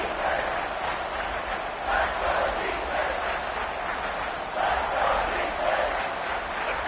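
A college football stadium crowd roars on a third down, a loud sustained wash of cheering that swells in waves, with a commentator's voice running over it.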